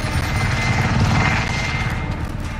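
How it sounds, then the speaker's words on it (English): Helicopter in the video game Modern Warfare, a loud, close, continuous rotor thump and engine roar filling the scene without speech. "Let's try and take down that chopper."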